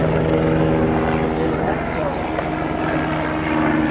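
A propeller aircraft droning overhead on a boat trip, a steady low engine hum throughout beneath people talking nearby.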